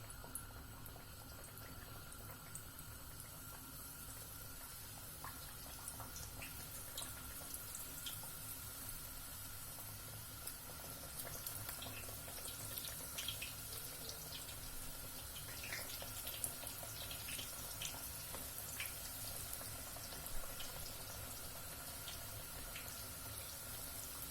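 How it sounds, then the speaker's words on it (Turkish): Steady, continuous sizzling and crackling of Turkish el böreği pastries frying in hot oil, close by, with no voices. "Şimdi kızgın yağımızı atıp kızartıyoruz."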